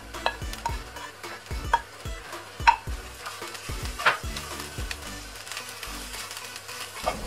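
A spatula stirs and scrapes through fried prawns and coconut masala in a pan, giving a string of close, sharp scraping clacks over a soft, steady sizzle.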